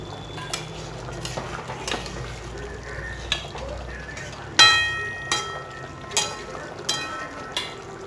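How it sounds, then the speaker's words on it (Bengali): A spoon stirs ghee and garam masala into a gravy, making repeated sharp scrapes and clinks against the pan about once a second over a soft background. It is fairly close and there is no talking. "এইবারে ঘিটা আর গরম মশলাটা হালকা হাতে একটু নেড়ে গ্রেভির সাথে মিশিয়ে দিতে হবে।"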